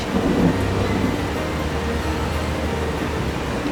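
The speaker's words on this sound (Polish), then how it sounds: "Rozpadało się na całego." Heavy rain pours in a dense, continuous hiss with a low rumble of thunder underneath, steady throughout.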